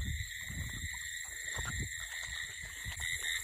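Frogs croaking by a stream at night during a crab-catching outing, their calls layered over a constant high-pitched insect drone, with low knocks and rustles close by.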